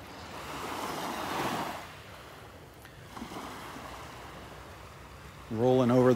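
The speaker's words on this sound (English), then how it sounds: "Just some little waves lapping on the shore here." Small ocean waves lap gently on a calm beach in southwest Florida, with soft swells of surf rising and falling, light wind on the microphone, and a brief tonal sound cutting in at the end.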